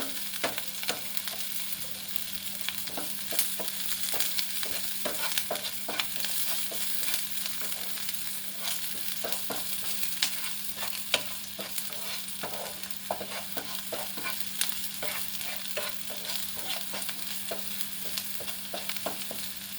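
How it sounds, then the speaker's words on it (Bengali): Onions with tomato paste fry in a pan while being stirred, a continuous sizzle broken by frequent scraping clicks of the spoon, steady and close throughout with no voices. "টমেটো পেস্টের মধ্যে দিয়ে দেবো, পেঁয়াজটা একটু কালার চেঞ্জ হবে যেই।"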